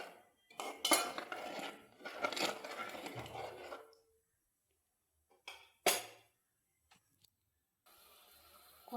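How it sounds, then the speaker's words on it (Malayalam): Ginger curry is stirred in a pot with a metal spoon, scraping and clinking in several bursts with quiet gaps between them, close and fairly faint. "ഇളക്കി കൊടുക്കാം."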